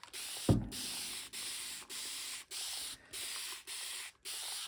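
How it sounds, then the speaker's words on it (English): A spray bottle spritzes fabric for eco printing with onion skins and strawberry leaves: a rapid series of about eight short, close hissing bursts in a steady rhythm after a single thump, no talk. "So this really needs a good spritz also"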